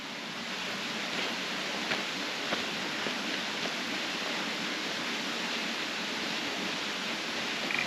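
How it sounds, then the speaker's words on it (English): A small waterfall at Tanisa Pools near Cowra, a continuous even rush of falling water heard alone, fairly near and steady. "I'm told there's a little waterfall here."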